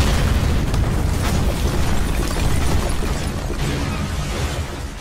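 A big gun fires in an animated Thomas the Tank Engine fantasy episode, a loud sustained explosive roar with rumbling debris that fills the whole stretch and fades slightly at the end.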